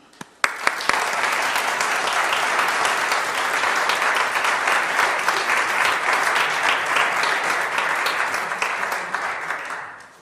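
An audience applauds to welcome Dr. Alan Stern at a lecture: a few scattered claps build quickly into loud, sustained clapping that holds steady for several seconds, then fades at the end.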